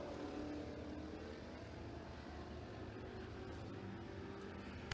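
A race car runs its qualifying lap at Tazewell Speedway, a steady engine roar at moderate distance that holds for the whole stretch, with no talk over it.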